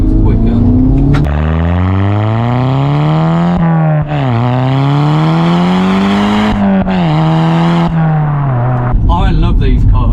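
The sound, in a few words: Audi S3 quattro engine accelerating while driving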